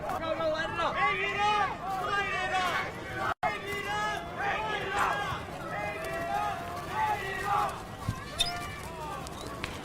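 Protest crowd in Minneapolis outside the Chauvin trial cheers and shouts, with overlapping excited voices, yells and chanting filling the scene at close range throughout, broken by one brief dropout.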